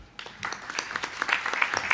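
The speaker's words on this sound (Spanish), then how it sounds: "Con este aplauso le agradecemos a Juan Francisco Llamazares Beg por su presentación" Audience applause in a Spanish-language assembly or legislative session, a dense steady patter of many hands clapping that builds after a quiet start and holds at moderate loudness throughout.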